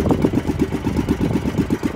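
A small fishing boat engine runs steadily at sea while fishing for bullet tuna off San Jose, Occidental Mindoro, giving a low, rhythmic chugging pulse at a constant idle-like pace, fairly close and without talk.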